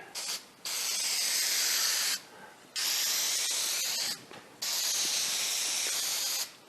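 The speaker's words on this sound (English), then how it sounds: "can of black spray paint, the quick color, fast drying, all-purpose spray enamel" A can of black quick-drying all-purpose spray enamel releases three long, steady hissing bursts separated by short pauses, close and fairly loud, painting over graffiti on an awning.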